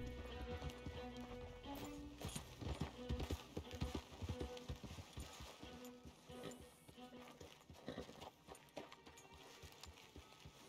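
Horses' hooves clip-clop in Red Dead Redemption 2, a steady run of hoofbeats mixed with dense in-game music and ambience, with faint voices in places.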